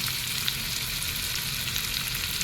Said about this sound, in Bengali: পেঁয়াজ কুচি দিয়ে দেব। আদা কুচি দিয়ে দেব,